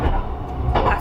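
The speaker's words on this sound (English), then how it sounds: "the train is fairly rocking around" Moving sleeper train in Scotland rocking along the rails, heard from inside as a steady low rumble with a couple of soft clanks, close and continuous over a brief second.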